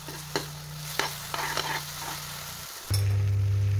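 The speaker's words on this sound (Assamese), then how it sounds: "এতিয়া এই পেষ্টটো 1 মিনিট মান ভাজিম যেতিয়ালৈকে নিজৰ গাৰ পৰা তেলটো নেৰে" Spice paste with salt and turmeric frying in oil in a pan, a steady sizzle broken by a few sharp stirring scrapes, then a sudden loud, constant low hum for the final second.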